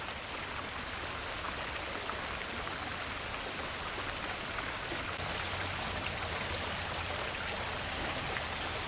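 Continuous broadband rush of water flowing in a fountain pool at a botanical garden, a steady hiss and splash without pauses, fairly close and even in level throughout.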